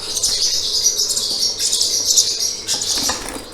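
Young chicks in a coop chirp and tweet continuously in a dense, high-pitched chorus, close by, with occasional wing flutters and no talking.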